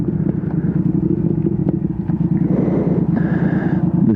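A Triumph Speed Twin motorcycle is ridden at a steady throttle with a throttle stabilizer fitted, giving a continuous rumbling engine drone with wind noise heard from the rider's position.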